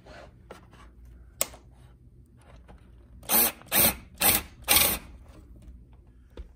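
Four short whirring bursts of a power screwdriver driving screws in from underneath a large vintage Apple machine, close and fairly quiet, preceded by a few faint clicks and handling knocks.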